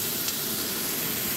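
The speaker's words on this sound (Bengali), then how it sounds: "এবার বেগুনটা আমি একটু ভেজে নেব।" Eggplant seasoned with salt and turmeric fries in a pan, a short, close, continuous hiss and sizzle with no talking.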